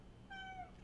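A single cat meow, drawn out and rising then falling, faint and close against a quiet room background.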